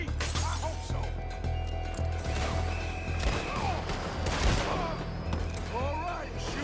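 Gunfire in a city shootout in Red Dead Redemption 2, repeated loud cracks and bursts of shots near and far amid shouting voices and crashing impacts, over a thick rumbling game backdrop.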